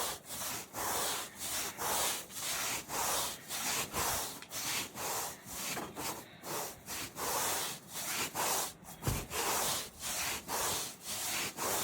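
A brush scrubs a carpet during cleaning, making close, rhythmic scratchy strokes at roughly two per second that continue steadily for about twelve seconds.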